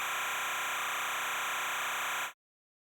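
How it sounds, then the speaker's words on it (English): A harsh, buzzy electronic timecode data signal, recorded into an audio input, holds steady at a constant level, then cuts off abruptly into silence. "That noise is actually your timecode metadata."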